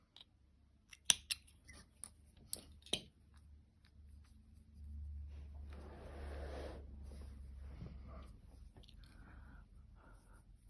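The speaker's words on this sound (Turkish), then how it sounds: "ipimi arkada sabitliyorum kesiyorum" Scissors snipping yarn while finishing a crocheted polar bear motif, several quiet crisp cuts early on, then a soft rustling hiss of handling in a quiet room.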